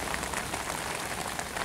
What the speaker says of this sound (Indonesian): Hujannya turun tuh, gerimis.